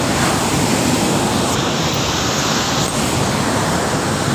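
Powerful rushing river water at the Head Marala headworks, a loud, steady broadband roar with no breaks and no voices over it.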